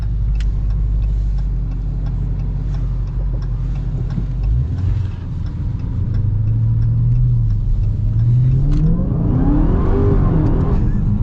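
A Dodge Charger Hellcat Widebody roars loudly from inside the cabin, its engine droning low before the revs climb in a rising sweep as the tires spin without traction.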